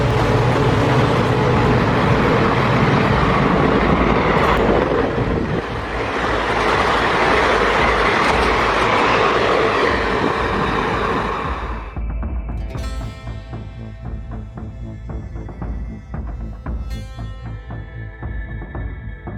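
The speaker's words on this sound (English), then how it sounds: "Stay tuned for the raw power of these trains." A fast train roars past close by, loud and sustained, then fades into a lighter rattling clatter of wheels over the rails.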